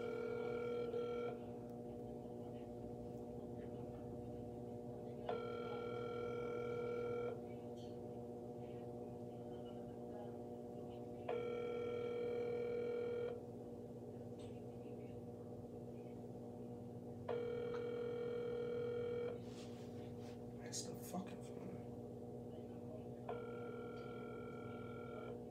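A telephone rings out on a prank call that nobody answers, steady repeating ring bursts roughly every five seconds over a constant droning line tone, fairly faint, with no talking.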